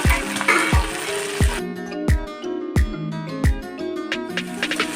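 Chopped okra (bhendi) tipped into a hot pan for a simple Marathi-style bhaji, sizzling loudly up close while a utensil knocks against the pan in repeated stirring strokes.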